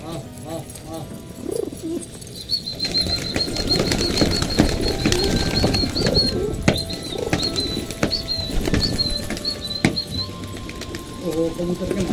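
Pigeons around a net, with repeated wing flaps and soft cooing over a steady stretch, close and fairly loud, while a man calls to them at the start and end.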